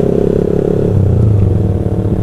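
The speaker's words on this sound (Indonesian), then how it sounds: "di bagian motor Honda Sonic ini mudah banget bunyi klotok-klotok" A Honda Sonic motorcycle engine runs close up with a rough, rapid knocking clatter over its low idle drone, the rhythm shifting slightly as the engine note changes.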